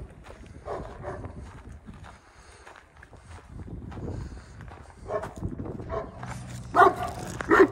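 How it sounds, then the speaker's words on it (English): A dog barks several times, fairly near, at a former petting zoo site, with irregular gruff bursts over wind and outdoor background noise, louder toward the end. "This dog is not happy about me being here."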